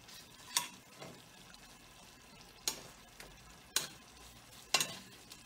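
Crepes suzette warm in a pan of sauce, a soft steady sizzle broken by several sharp scraping, splashing strokes as the sauce is basted over them, with no voices.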